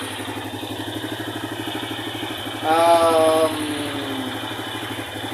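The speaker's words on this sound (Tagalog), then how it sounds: "Responsive na responsive yung makina." A motorcycle engine idles steadily after a Chief gas treatment, with a short, louder rev in the middle before settling back to a rhythmic idle; a voice briefly murmurs over it.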